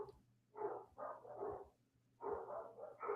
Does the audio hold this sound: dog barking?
yes